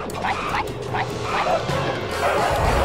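Dog barks repeatedly in the PS2 video game SpongeBob: The Movie, a run of short yapping barks spaced about half a second apart over steady game background noise.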